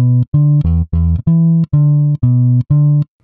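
An electric bass with humbucker pickups, an SG-style devil bass modeled on the Gibson, plays a short run of eight plucked notes with a round, warm tone and a slightly vintage character, heard alone and up close.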